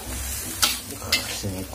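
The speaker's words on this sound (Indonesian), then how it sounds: "Kita aduk sampai rata merata." Stir-fried kencur leaves being stirred in a pan, a steady sizzle with two short scraping strokes of the utensil, close and moderately loud.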